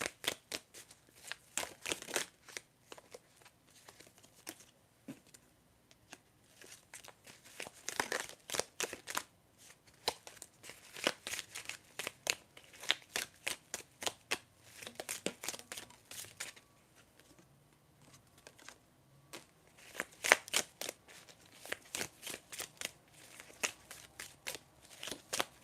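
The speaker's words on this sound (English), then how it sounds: "I'll shuffle for more tea leaf cards for you." Tarot cards being shuffled in repeated rapid bursts of riffling and snapping, close and fairly loud, with brief pauses between shuffles and no talking.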